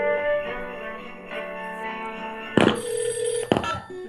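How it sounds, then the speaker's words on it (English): Telephone ringing on a smart display while a call to the North Pole is on hold: two short ring bursts in the second half, fairly close, after a stretch of faint background music. "Hey Santa, phone call."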